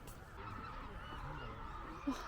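Distant honking birdcalls over a steady outdoor wash of background noise, with one slightly clearer call near the end.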